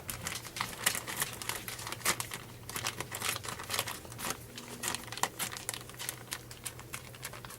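Edges of a plastic bag holding pie dough are cut away, producing close crinkling and rustling of plastic with irregular snips and small crackles, fairly quiet and continuous.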